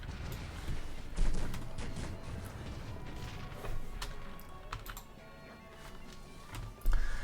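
Cannon fire and battle clatter in the strategy game Cossacks 3, several dull booming thumps among crashes, hoofbeat-like clops and scattered impacts, loud near the start and end over a busy mixed din.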